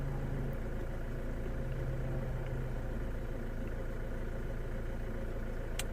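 Kia Venga 1.4 CRDI diesel engine idling just after starting, a steady low, even rumble with faint clatter, moderately quiet and unchanging throughout, no voices.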